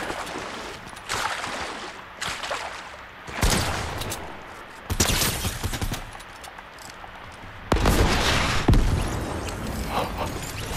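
Rocket launcher blasts and explosions in the Fortnite video game: several loud, broad booming bursts spaced a few seconds apart, with a continuous rumble of gunfire and game noise between them and no talking.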